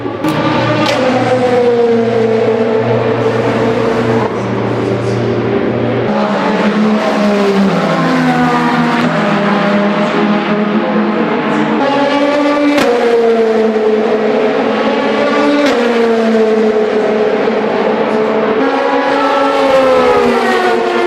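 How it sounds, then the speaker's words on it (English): Race cars roar past on the Le Mans start-finish line during the 24 Hours, engines howling loud and close with rising and falling pitch as each car sweeps by in quick succession, with no pause between passes. "Let's watch some cars go fast on start-finish line."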